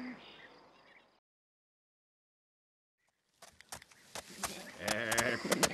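Goats on a farm bleating, a burst of layered animal calls with a buzzing insect-like texture rising after a silent gap, growing louder toward the end.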